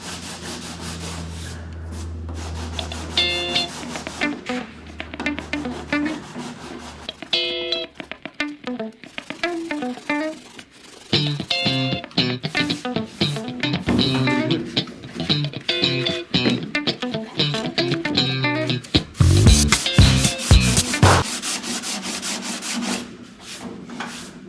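Hand sanding a curved radius into a car body panel, rough abrasive strokes rubbing back and forth in irregular bursts with brief pauses, close and moderately loud throughout.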